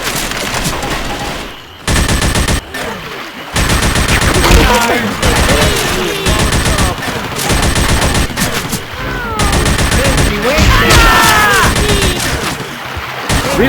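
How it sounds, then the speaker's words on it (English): Gunfire in the Left 4 Dead 2 swamp fever level, dense rapid bursts of automatic and single shots that stop briefly and then start again, loud and close, with voices calling out during the shooting. "Rochelle, I know that was you shooting me"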